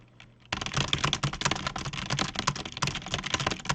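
Rapid, dense typing on a computer keyboard, a continuous rattle of close, loud keystrokes that starts abruptly after a brief quiet moment and keeps going hard without pause.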